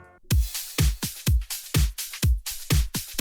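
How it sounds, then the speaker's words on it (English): Electronic drum loop opening with a crash cymbal hit, followed by a steady pattern of punchy kick drums with bright cymbal and hi-hat wash on each beat, loud and upfront with no voices. "The same drums from before, but this time with a crash at the beginning."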